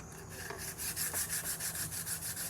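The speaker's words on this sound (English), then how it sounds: "we can just come here and sand it away" A wooden hatchet handle being sanded by hand with sandpaper, steady rhythmic rubbing strokes at close range, a soft repeating scratchy whoosh with no talking.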